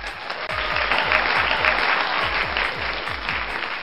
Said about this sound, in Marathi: जोरदार टाळ्या होऊन जाऊ देत या प्रोडक्टसाठी.